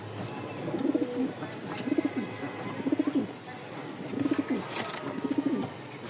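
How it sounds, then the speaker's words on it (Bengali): A pair of sky-blue Rajgolla (floor-type) pigeons coo softly in repeated rolling bursts, close by, with brief pauses between calls. "আরও এক জোড়া আকাশি কালার রাজগোল্লা বা ফ্লোর টাইপের এক জোড়া কবুতর দেখাই।"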